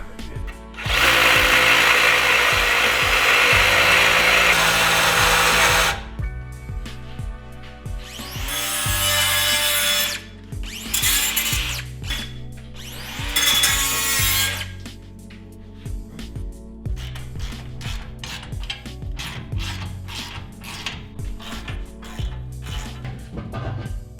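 Power tool cutting a car exhaust pipe near the muffler on a Camaro, with a loud harsh grinding burst followed by several shorter cutting bursts and quieter stretches between.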